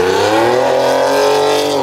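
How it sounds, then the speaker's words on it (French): A Nissan Skyline's engine revs hard and close, a loud, smooth, rising mechanical note that holds briefly and then eases off, with no talk. "Le beau bruit d'une Skyline."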